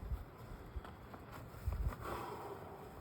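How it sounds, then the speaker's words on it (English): Gusty wind blowing across a microphone outdoors among beehives, rumbling in low buffeting bursts that swell and fade over a few seconds, close and fairly faint, with no voices. "It's a little windy today."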